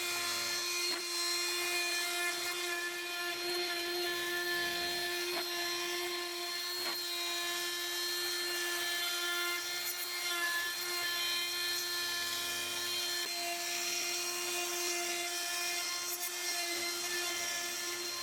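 A desktop CNC machine mills aluminium at a quarter-millimetre depth, its spindle holding a steady, piercing high whine that runs unbroken throughout, marked by a few faint ticks.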